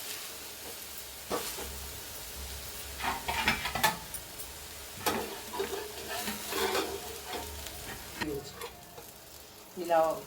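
Onion dosa frying on a hot pan, a steady sizzle with scraping and stirring sounds coming and going, some louder bursts near the end.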